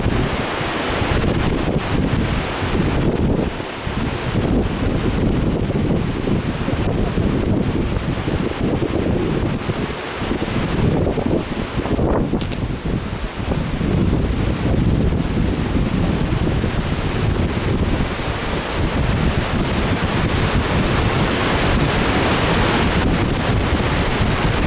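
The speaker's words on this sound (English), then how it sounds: "And it's pretty darn windy too" Strong wind gusts and buffets the microphone at a lake shore in a state park, a loud, roaring, continuous rush with slight surges and no voices.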